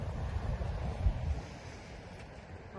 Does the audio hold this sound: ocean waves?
yes